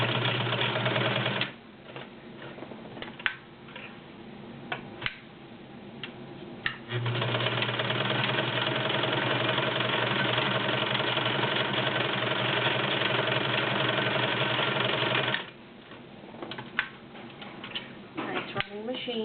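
A Brother model 2010 sewing machine runs in two bursts of fast, even mechanical whirring and ticking, close up, with quieter stretches of clicks between them.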